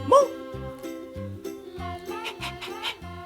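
A dog barks and yips in short bursts over a rhythmic, bouncy musical backing, with a quick high yelp at the start.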